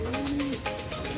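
Racing pigeon cooing during summer race training, a soft, low, rounded coo close by with a faint rhythmic pulse, heard alone without speech for about a second.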